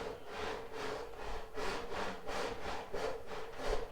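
A hand saw blade cuts through wood while a vice support is being made, giving about eight steady, even back-and-forth strokes of rasping at a slow, regular pace, close and fairly loud with no talking.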